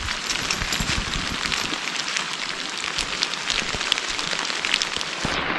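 Heavy rain pours steadily onto a wooded river trail, a dense, continuous hiss with close, irregular drops pattering nearby throughout.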